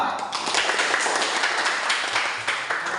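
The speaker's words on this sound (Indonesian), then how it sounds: "Oke, tepuk tangan untuk kelompok 4" Classroom audience claps for a presenting group, a short burst of steady, fairly close hand clapping with faint talk underneath.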